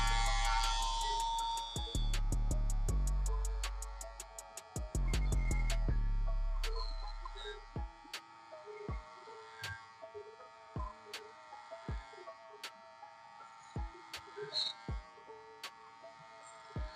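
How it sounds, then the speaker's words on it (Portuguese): Electric hair clipper buzzes loudly while cutting curly hair, then the motor winds down and stops, followed by sparse light ticks and clicks of handling, no talk. "E vou entrar com a máquina na linha desse dedo"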